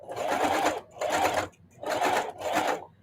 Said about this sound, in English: I'm sewing along this little gold line on here